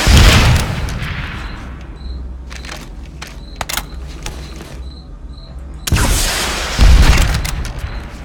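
Rocket launcher fire against an enemy vehicle in Planetside 2, a loud blast at the start, a stretch of mechanical clicks and creaks, then two more heavy booming explosions near the end.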